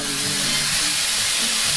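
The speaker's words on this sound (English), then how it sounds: "Hear that sizzle" Steady broadband hiss of sofrito sizzling in a hot pot, continuous and close, with a faint low rumble beneath.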